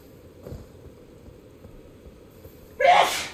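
After quiet room tone, one loud, sharp human sneeze bursts out close to the microphone right at the end.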